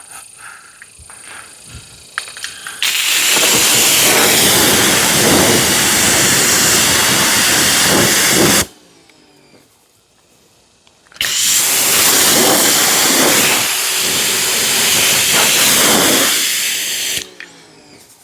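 Pressure washer water spray rinsing Brake Buster wheel cleaner off the wheel of a C8 Z06, a loud steady hissing blast in two long bursts separated by a short quiet gap.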